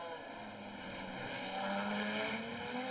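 3.4-litre FIA F3 race cars at the Macau Grand Prix street circuit roar loudly and continuously, their engines climbing in pitch as they pass close by.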